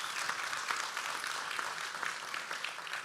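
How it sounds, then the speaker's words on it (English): Guests at a Marines' birthday ball applaud, steady mid-distance clapping filling the room evenly and fairly soft, with no voices over it. "What a fantastic, a round of applause."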